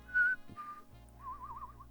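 A person whistles a few short notes, then a wavering, warbling tune, close and fairly soft, with a light thump between phrases.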